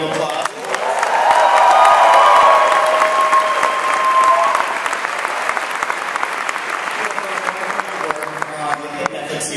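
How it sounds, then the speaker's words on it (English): Loud applause from an audience at a Chicago House event, swelling quickly into dense clapping with some cheering, then easing back to a lighter, sustained patter. "Can we give her a round of applause?"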